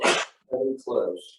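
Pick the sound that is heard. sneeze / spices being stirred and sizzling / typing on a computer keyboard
sneeze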